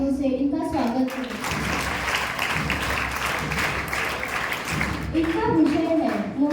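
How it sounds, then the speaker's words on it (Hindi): Audience applause welcoming ninth-grade students onto the stage at a school Hindi debate competition, a sustained wash of clapping between announcer speech at the start and end. "जोरदार तालियों से इनका स्वागत करें।"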